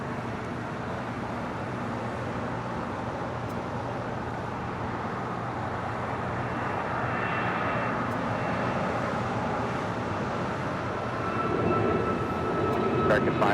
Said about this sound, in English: It's an A321neo now rolling down at 25 right.